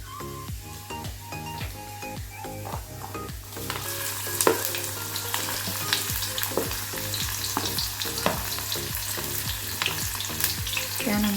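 Cumin and garlic sizzle in hot oil for a Maharashtrian besan pithla, then onion is added and the frying grows into a loud, dense crackle. A spoon stirs and clinks against the pan.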